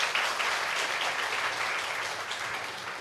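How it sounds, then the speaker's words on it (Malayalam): An audience claps together in a dense, sustained round of applause at a public talk on drug abuse, steady and fairly loud throughout with no voices over it. "ഒരിക്കൽ കൂടി നമുക്കവർക്ക് നല്ലൊരു കയ്യടിയോടുകൂടി അഭിവാദ്യങ്ങൾ അർപ്പിക്കാം"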